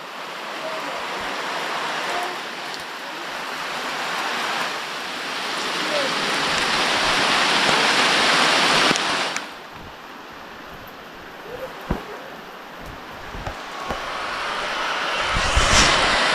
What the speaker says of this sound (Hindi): और इतनी भयंकर बारिश हो रही है